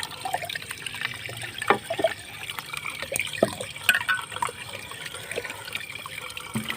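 Plain tap water runs and pours into a mug, a continuous trickling, splashing flow with a few sharper splashes, fairly close and with no voices over it.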